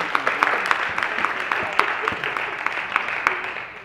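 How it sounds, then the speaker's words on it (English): An audience at a juvenile crime public forum claps for its panelists, a steady, fairly loud patter of many hands with sharp individual claps standing out, lasting about four seconds with talk underneath. "if anyone could join me in a round of applause for our panelists"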